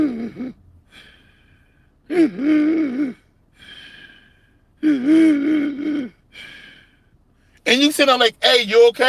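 A man vocally imitates a person breathing heavily while sitting down, with loud, wheezy gasping breaths in several bursts between stretches of his own talking.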